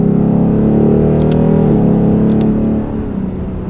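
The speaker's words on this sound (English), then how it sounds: "You get a little rev matching downshift." A 2018 Ford Mustang GT Premium V8 held under steady engine drone from inside the cabin, with the pitch shifting as the revs change during a rev-matched downshift, loud and close with no talking.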